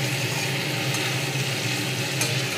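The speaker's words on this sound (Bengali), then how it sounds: "ফুলকপি, পেঁয়াজ কুলি, কড়াইশুঁটি, টমেটো, আলু সব দিয়ে ভাজা ভাজা করছি" Cauliflower, onion, peas, tomato and potato fry with spices in a pan, producing a loud, steady sizzle with soft stirring scrapes mixed in.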